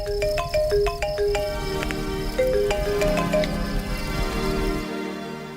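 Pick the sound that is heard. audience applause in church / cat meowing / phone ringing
phone ringing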